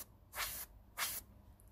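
Two short bursts of paint spraying from a spray gun while testing a cheap alternative to masking putty, each a bright hiss lasting about a third of a second, close and fairly quiet, separated by a brief pause.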